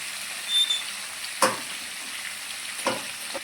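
A potato and bell pepper curry frying in a pan as turmeric goes in, a steady close sizzle with a few brief stirring scrapes and no talking.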